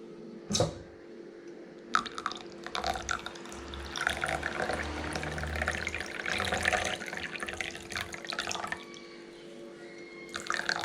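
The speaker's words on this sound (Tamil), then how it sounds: "அடுத்தது ஒரு லெமன், தண்ணி சேர்த்துக்கலாம்." Water is poured into a glass for kulukki sarbath, a lemon-based shaken drink, with a soft splash and steady trickling and bubbling that runs for several seconds, close and fairly quiet, with no talking.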